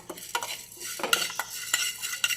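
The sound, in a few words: roasting urad dal in a pan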